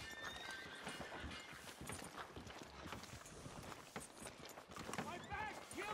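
Horse hooves clop in Red Dead Redemption 2 at an uneven pace amid a busy mix of game sounds, while voices talk over them.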